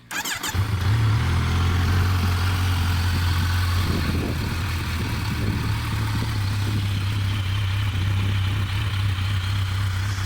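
A 2018 Kawasaki Z900 motorcycle, restricted to 35 kW for the A2 licence, idles steadily with a low, even rumble, starting abruptly and holding a constant throb throughout.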